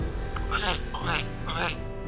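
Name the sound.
voice imitating a burp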